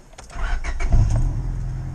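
A car engine turns over and settles into a steady low idle rumble close by, with no talking over it.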